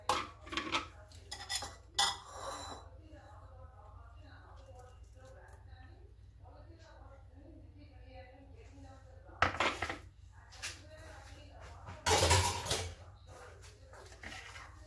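Coconut chutney is spooned from a blender jar into a bowl, giving a series of sharp clinks and scrapes of metal on dishes, with quiet pauses between bursts of clatter.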